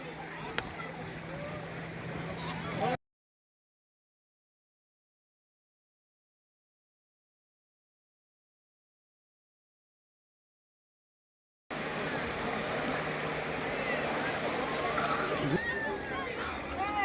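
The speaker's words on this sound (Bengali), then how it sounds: "ঢেউয়ের আওয়াজ শুনলে তোমাদের মাথা খারাপ হইবে" Sea surf at Digha beach roars in a dense, steady wash with wind. It is heard in two stretches separated by a long silent gap.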